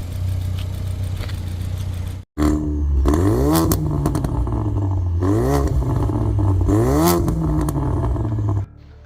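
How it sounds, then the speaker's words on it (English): A Ford Focus RS with a modified exhaust revs hard several times with a rough, throaty note, rising and falling in quick bursts after a brief cutout. "You heard the modified exhaust"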